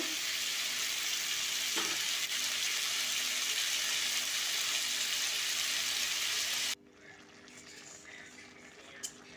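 Fish fries in hot oil in a pan for fish curry, a loud, dense sizzle that runs steadily before cutting off abruptly, leaving a quiet kitchen.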